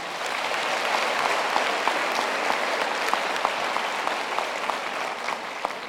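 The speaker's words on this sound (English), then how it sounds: "Can we give a round of..." A large audience at a University of the Free State graduation ceremony claps in a dense, sustained round of applause that holds steady for the whole stretch, with individual sharp claps popping out of the wash.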